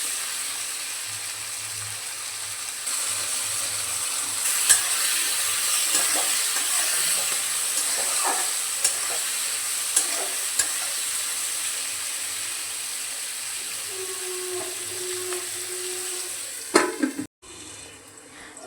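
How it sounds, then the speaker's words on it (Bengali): Potato, onion and green chili fry with salt and turmeric in a pan, giving a steady bright hiss of sizzling oil with occasional light stirring taps, ending abruptly near the close. "আলু, পেঁয়াজ আর কাঁচা লঙ্কাটা ভাজা হয়ে গেলে"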